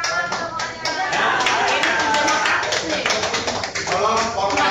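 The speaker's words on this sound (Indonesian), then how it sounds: "Tepuk tangan semuanya." Participants at a volunteer consortium coordination meeting clapping together, a dense burst of overlapping claps with individual hand strikes audible, close and fairly loud throughout.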